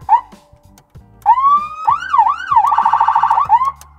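A police car siren in a driving video game: a brief chirp, then a loud wailing siren rising and sweeping up and down, shifting into a fast yelp pattern before trailing off, with no voices.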